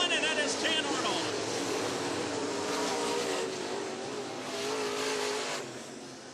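Modified race cars run on a racetrack during a Budweiser Modified Twins race under caution, their engines giving a steady, loud, continuous roar with a voice talking over it.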